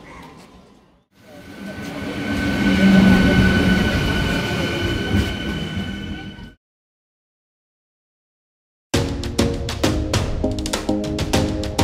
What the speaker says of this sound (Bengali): ট্রেন অলরেডি ঢুকে গেছে